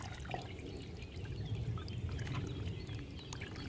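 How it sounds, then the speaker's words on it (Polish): Quiet, steady rushing and trickling of water pouring out continuously through a sieve, with a low rumble underneath and no speech. "wodę wylewamy, zostawiam na sitku"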